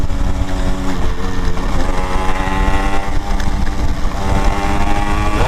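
A vintage Yamaha RX135 two-stroke motorcycle runs close by, its engine and exhaust giving a loud, steady buzzing drone that holds nearly constant throughout.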